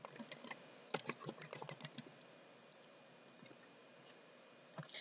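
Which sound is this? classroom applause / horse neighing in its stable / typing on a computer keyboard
typing on a computer keyboard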